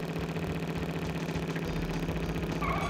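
Car engine during a race in Crash Bandicoot 3, a continuous droning hum with a steady low pulse, moderately loud and unbroken throughout.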